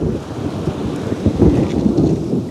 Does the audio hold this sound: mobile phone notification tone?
no